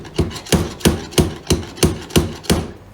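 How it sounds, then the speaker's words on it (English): Slide hammer driving a nail into a leather riding boot sole, seven sharp, evenly spaced metallic knocks about a third of a second apart, loud and close with no talk. "pop our nail in, position our slide hammer, and the nail doesn't come out until we just pull the plunger up"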